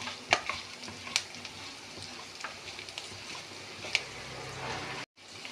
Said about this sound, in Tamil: ஒரு நிமிடம் நெய்யில் நன்றாக வறுக்கவும்